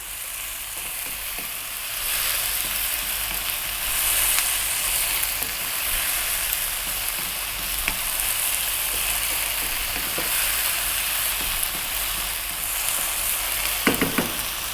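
Chicken chop suey sizzles steadily in a pan over high heat, a loud continuous hiss broken by scattered clicks and scrapes of stirring, close and alone.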